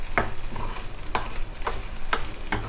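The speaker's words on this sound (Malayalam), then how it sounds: "ഒരു 5 മിനിറ്റ് ഒന്ന് നന്നായിട്ട് വഴറ്റി കൊടുക്കുക" Onion masala for chicken rolls being sautéed in a pan, a constant loud sizzle with several sharp spatula scrapes at roughly half-second intervals, close up and without any voice.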